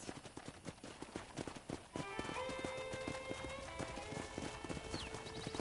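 Horse hooves clip-clop steadily in a Red Dead Redemption game scene at a corral, a rhythmic run of hoofbeats with tonal game sounds and music joining partway through.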